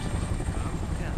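A brief burst of loud, steady rotor whir comes from a surveillance drone hovering close by in Homefront: The Revolution.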